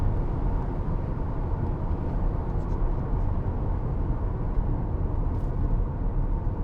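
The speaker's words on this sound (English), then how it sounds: "The sound of this engine" A 2006 Mercedes-Benz SLK280 with a 3.0 engine and 7G-Tronic gearbox is being driven, giving a steady, dense low rumble with road noise that stays even and unbroken throughout.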